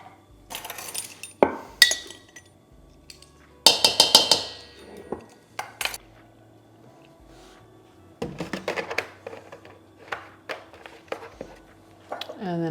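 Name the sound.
taking a lid off a container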